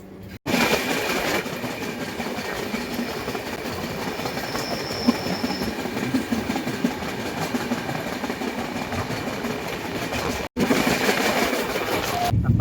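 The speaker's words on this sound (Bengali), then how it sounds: "বিশাল বড় এই পেট্রোল ট্যাঙ্কার ট্রেন।" A long petrol tanker freight train rolls past in the rain, heard from inside a passenger train: a steady rumble and clatter of wheels on the rails, loud and continuous, with a brief cut near the end.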